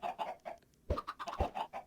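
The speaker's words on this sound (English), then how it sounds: "They make the same noises as the normal chickens" A Minecraft chicken clucks in quick, bubbly bursts, close and moderately quiet, with a few low thumps mixed in.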